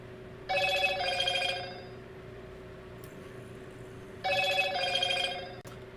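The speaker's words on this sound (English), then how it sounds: "Phone is blowing up." A telephone rings in two bursts, each made of a pair of bright electronic trills, with a few seconds of quiet room hum between them and no talking.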